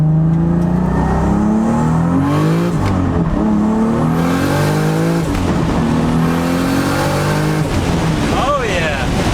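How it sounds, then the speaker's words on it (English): A 700hp Toyota Supra on Toyo R888 tyres accelerates hard in first gear. The engine roar is loud and close, rising steadily in pitch with a brief break where it shifts, and a voice is heard over it. "Do a little first gear action,"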